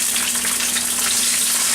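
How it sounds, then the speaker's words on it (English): Vegetable oil and garlic sizzle loudly in a wok, with a steady, close frying hiss and a faint hum underneath, no voices, as yellow and orange peppers wait to be stir-fried. "We'll start stir frying."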